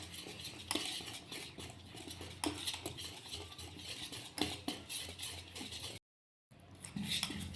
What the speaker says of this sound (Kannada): ಈ ಥರ ಒಂದೇ ಸೈಡಿಗೆ ಕಲಿಸ್ಕೋಬೇಕು.